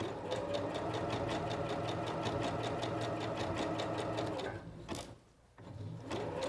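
A Singer Professional 9100 sewing machine stitches a hem on a skirt, running fast with an even rapid needle clatter that drops away briefly near the end before starting again, close and alone.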